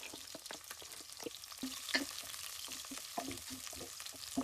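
Chicken sautéing in hot oil with onion and garlic, a steady close crackling sizzle with scattered sharp pops and spatters, heard alone without talk.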